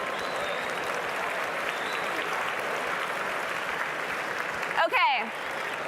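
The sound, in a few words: audience clapping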